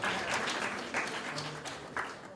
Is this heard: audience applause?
yes